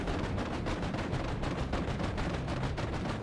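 Relentless rapid-fire shooting in the video game Vicious Attack Llama Apocalypse: loud, tightly packed gunshots and heavy thumping blasts pound without a break, a steady barrage from start to finish.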